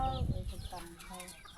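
Chickens clucking in a village in the Lao forest, several short calls at close range mixed with voices talking over them throughout.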